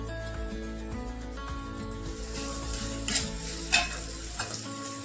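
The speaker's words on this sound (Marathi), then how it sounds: "आपण एक मध्यम आकाराचा कांदा बारीक कापून घेतला होता तो आपण फोडणीसाठी घालतोय" A finely chopped medium onion fries in a tempering with garlic and coconut for a misal. It gives a steady, close sizzle with a few louder crackling bursts and stirring scrapes over a constant tonal background.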